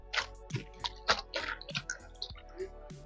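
Hands wash spinach in a basin of water, producing a series of close, irregular splashes, drips and wet squelches that come in short bursts of a few per second, with no talk.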